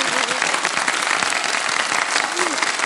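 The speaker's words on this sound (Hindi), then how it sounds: "बहुत सारी तालियां।" Studio audience at a Ramadan quiz competition show bursts into sustained applause, a dense roar of clapping from many hands, loud and continuous, with some crowd voices mixed in underneath.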